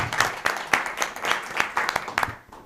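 Applause at a school district board meeting comes as a modest, uneven patter of a small group clapping, individual claps distinct, fading out at the end.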